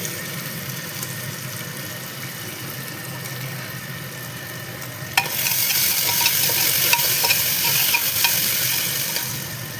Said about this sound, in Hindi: इन सबको तेज़ आंच में थोड़ा फ्राई करेंगे।